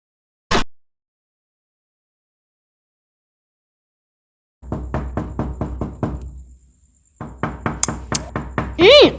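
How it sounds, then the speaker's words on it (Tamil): One sharp, loud knock on a door sounds near the start. After a silent pause, people talk. "கதவு தட்டிய சத்தம் கேக்குது"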